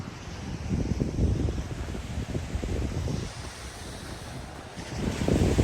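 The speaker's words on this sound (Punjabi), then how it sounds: "ਠੰਡੀ ਠੰਡੀ ਹਵਾ ਚੱਲ ਰਹੀ ਹੈ ਪਰ ਕੱਲੇ ਸਮੁੰਦਰ ਦੀ ਆਵਾਜ਼ ਆ ਰਹੀ ਹੈ" Sea waves wash steadily against the shore beside a seaside walking path, mixed with gusting cool wind buffeting the microphone, a continuous roar that swells and eases without any talking.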